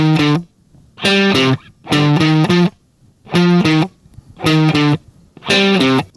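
An electric bass with an effects-coloured tone plays a bass line walking up a C natural minor scale, repeating short punchy riff phrases with brief gaps, close and loud.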